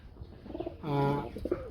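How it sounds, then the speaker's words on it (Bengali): Native Gulla domestic pigeons coo softly and close by, one clear, low, drawn-out coo rising above quieter cooing and rustling. "এটা মোটামুটি দেশীয় গুল্লা কবুতর বলা চলে।"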